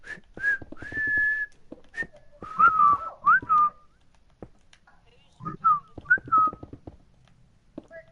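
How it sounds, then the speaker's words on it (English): A person whistles a short tune in bright, sliding notes, in several phrases with brief pauses between them, close and fairly loud, with a few soft clicks and knocks between the phrases. "That's me whistling."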